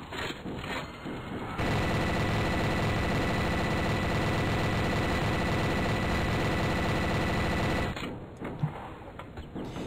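A big gun in the Storm The House 3 flash game fires in one unbroken, loud, rapid automatic burst lasting about six seconds, with quieter scattered game noise before and after.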